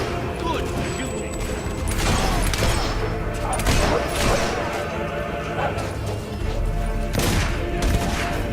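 Gunshots in Fable 3 crack out in several sharp, loud bursts spread across a busy battle din, with voices talking over the action.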